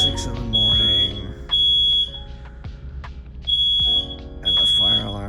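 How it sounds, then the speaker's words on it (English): A hotel fire alarm goes off in repeated loud electronic beeps, each roughly half a second long and separated by short gaps, with murmured voices underneath between the tones. "the fire alarm is going off, and I have no idea why"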